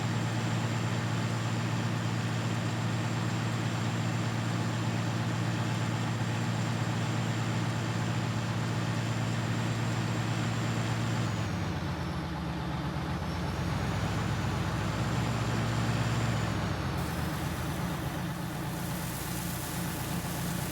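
A Farmall tractor engine in Farming Simulator 19 drones steadily at a low, even pitch for a long stretch, shifting tone slightly partway through, with no talk over it.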